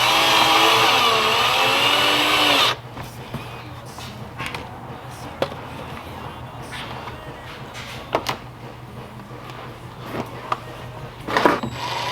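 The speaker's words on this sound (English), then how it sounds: "I'm gonna start drilling the front side" A power drill whines loudly for a few seconds, its pitch wavering, while drilling into the front splitter of a Subaru WRX, then cuts off, leaving quiet clicks and handling knocks.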